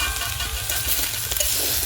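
Turmeric-coated potatoes frying in a pan make a continuous near crackling sizzle with light stirring clicks, loud and even throughout.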